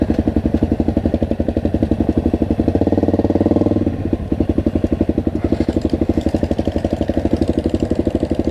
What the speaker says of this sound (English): Sounds like the exhaust has fallen off.